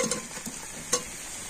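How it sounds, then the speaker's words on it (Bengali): Spices and boiled potatoes stirred in a pan, a spoon scraping in a few soft strokes with sharper clicks near the start and middle, over a faint sizzle and no talking. "এবার আলুর সাথে সমস্ত মশলাটা খুব ভালো করে নাড়াচাড়া করে নেব"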